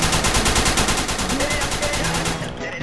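Rapid bursts of gunfire in the Garry's Mod DarkRP game, dense and loud, with repeated shots running nearly continuously before cutting off near the end.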